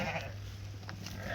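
Sheep at a livestock sale, with one bleat near and in the open and faint background noise; big lambs are among the animals.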